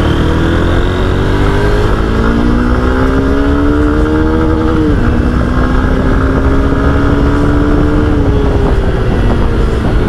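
Honda CB200X motorcycle pulling hard on the road, loud engine note climbing in pitch, dipping at a gear change around midway, then rising again under heavy wind rush.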